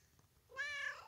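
A cat gives a single short meow, faint and alone against quiet background noise.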